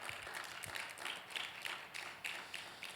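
A church congregation claps, a quiet, distant patter of many hands with a few sharper individual claps, steady over a few seconds.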